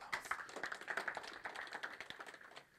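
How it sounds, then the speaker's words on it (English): A small audience gives a round of applause at a youth peacebuilding event in Kisumu, scattered clapping that runs steadily for a few seconds at moderate loudness, then tapers at the end. "If you loved it, can you just give a round of applause?"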